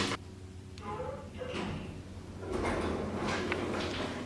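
Lift doors slide open and shut inside a university accommodation block, a rolling mechanical rumble with a few thuds and clunks, heard under a person speaking.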